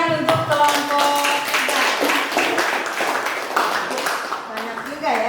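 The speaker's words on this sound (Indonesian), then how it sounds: "Oke, tepuk tangan untuk kelompok" A classroom group clapping for a student team, brisk overlapping hand claps close by, with voices talking over them throughout.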